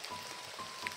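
Steady rain falls outdoors in the mountains, a soft, continuous patter and hiss at low level with no talk.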